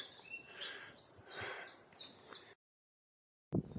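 Faint songbird chirps and trills come from sheltered coastal scrub for a couple of seconds, then the sound cuts to silence before a short noisy burst at the end.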